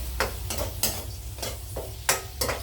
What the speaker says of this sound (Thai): เจียวให้กระเทียมเหลืองสักหน่อยหนึงก่อน